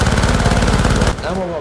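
A turret machine gun in the co-op video game Syndicate rattles in a fast, loud, rhythmic burst for about a second, then cuts off abruptly, leaving quieter game noise and a brief voice.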